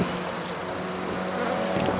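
Honeybees buzz steadily from an opened hive during a March inspection, a close, continuous drone with no speech over it.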